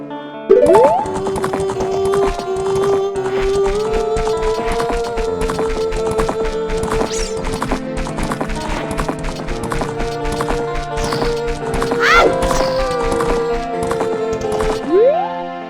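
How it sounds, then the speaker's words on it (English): Horse hooves clip-clop steadily in the video game Zelda: Ocarina of Time, a continuous loud rhythmic trot over game music, with a brief neigh near the start and end. "She's this horse. Her name is Epona."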